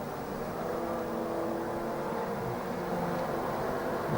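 Super sedan race cars lap a speedway oval in a 1997 championship meeting, a steady, dense engine roar at medium distance that swells slightly toward the end, with no clear individual pass-bys.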